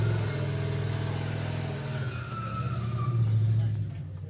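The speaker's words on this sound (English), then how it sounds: "Loz has totally aced the burnouts." Drag racing car at Nostalgia Nationals doing a burnout, a loud low engine drone with revving and tyre-squeal texture that swells toward the end before cutting off.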